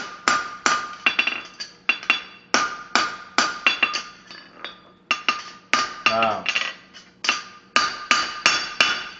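A hammer forging a steel bar shoe on an anvil, loud ringing metallic blows struck in a steady rhythm of roughly two per second, each with a short bright ring, close by and with no talk.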